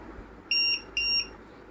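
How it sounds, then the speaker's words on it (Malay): A LiPo battery checker buzzer, plugged into an RC car battery, sounds two identical sharp high-pitched electronic beeps, each about a quarter second long, close and clear over faint background hiss. "Sambil tu cocok lipo buzzer ni."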